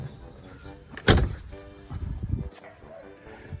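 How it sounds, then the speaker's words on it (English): A car door shuts with a single solid thump, followed by some rustling and shuffling movement nearby. "Close the door here"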